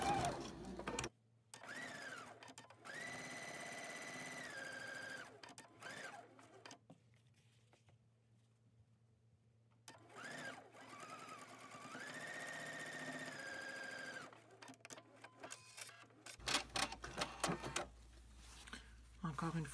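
A sewing machine stitches the end of a fabric strip onto a log cabin quilt block, running in a few bursts of steady whirring with pauses, close by, with a person talking over parts of it.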